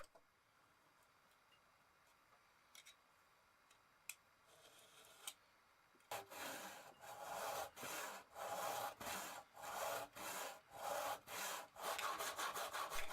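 A hand saw cuts through a block of discarded oak countertop. After a quiet start it settles into a steady rhythm of about a dozen close, rasping strokes.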